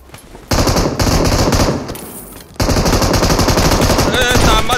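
Automatic gunfire from a battle royale video game, loud bursts of rapid shots filling most of the clip with a brief dip in the middle, under music-like game audio.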